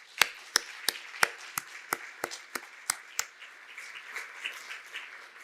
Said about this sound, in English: So please join me in their applause.